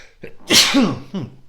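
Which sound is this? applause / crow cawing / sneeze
sneeze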